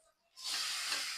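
Onions sizzling as they fry in a pan, a bright hiss that starts suddenly and holds steady and close with no talk.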